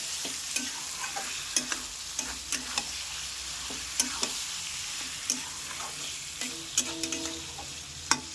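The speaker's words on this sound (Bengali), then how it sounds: "এখন একটু নাড়াচাড়া দিয়ে ঢাকা দিয়ে রেখে দেবো।" Mutton curry being stirred in a pan: a spoon scrapes and clinks against the metal at an irregular pace, with a faint steady sizzle underneath and no voices.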